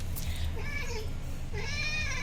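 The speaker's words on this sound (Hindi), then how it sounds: "ये देखिए यहाँ बिल्ली आई हुई है" An injured cat meows indoors in a home kitchen, two drawn-out tonal meows with a pause between them over a steady low background hum.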